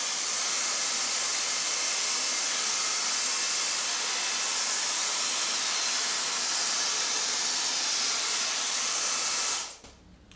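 A Dyson cordless vacuum cleaner powered by a modified lithium polymer battery runs alone with a loud, steady high-pitched whine and airy hiss, then cuts off abruptly near the end, leaving near silence.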